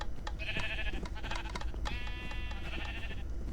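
Several cartoonish sheep bleats from a video game, including the elemental sheep, ring out in quick succession over a steady busy game soundtrack, loud and close.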